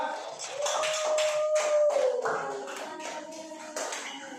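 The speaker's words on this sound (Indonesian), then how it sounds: "silakan dulu, tepuk tangan dulu kalau bisa" An audience applauds with hands, a burst of close, dense clapping that builds and then thins out, mixed with a sustained tone and some speech.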